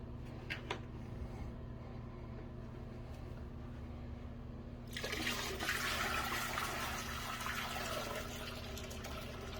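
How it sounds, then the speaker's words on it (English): Water starts flowing and splashing loudly about halfway through while a 1952 Whizzer Sportsman motorbike is washed, with faint knocks before the steady rush. "All right, here's the water."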